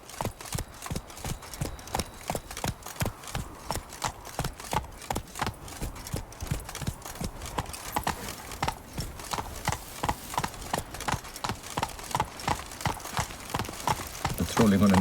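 Roach, a horse in The Witcher 3: Blood and Wine, gallops with quick, rhythmic clip-clop hoofbeats that pound steadily and close, while a voice sounds faintly alongside.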